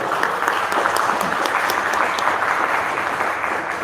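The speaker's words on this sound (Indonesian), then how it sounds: "Tepuk tangan jangan ragu-ragu." Crowd at a Hari Raya pantun event breaking into loud, sustained applause, a thick, steady roar of many clapping hands with no pause.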